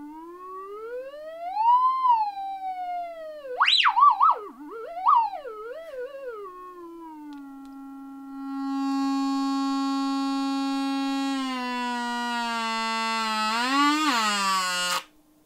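A blown tweeter arcing inside an Acoustic Audio H-CD12 speaker gives off loud whining electronic tones that sweep up and down, then settle into a sustained buzzing drone that rises to a harsh peak before cutting off.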